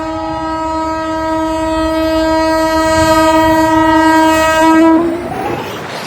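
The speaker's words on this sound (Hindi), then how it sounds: "सो फाइनली ट्रेन आ गई थी।" A train horn sounds as one long, steady, loud blast lasting about five seconds and then cuts off, leaving rumbling train noise behind it as the train pulls in near Roorkee.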